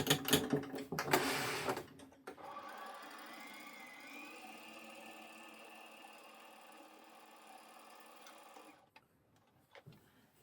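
A sewing machine runs steadily for about six seconds, stitching a zigzag seam through boiled wool, with a faint mechanical hum and whir that stops before handling noises at the start and end.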